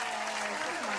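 An audience applauding for Miss Inspiration Hunter on a relationships talk show, a brief dense patter of clapping at steady volume with a faint voice mixed underneath.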